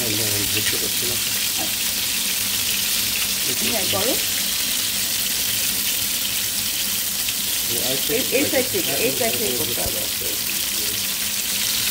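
Sardine fish frying in a pan hiss and sizzle steadily from start to finish, with bursts of spatula clatter as the pieces are turned and people talking over the noise.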